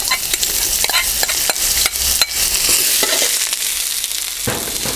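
Onion frying in about four tablespoons of very hot vegetable oil in a Balti pan, a loud continuous crackling sizzle close up, with repeated scraping stirs of a utensil against the pan.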